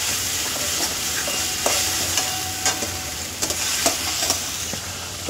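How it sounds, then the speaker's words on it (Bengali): Hilsa fish head and Malabar spinach sautéing with turmeric and chili in oil, a continuous dense sizzle broken by sharp spatula clicks and scrapes, close and alone. "দিয়ে এটাকে খুব ভালো করে কষাতে হবে।"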